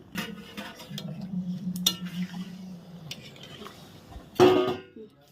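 A pot of chicken curry with a little added water is stirred, the spoon scraping and clinking steadily against the pot, followed by a louder sharp metallic clatter near the end.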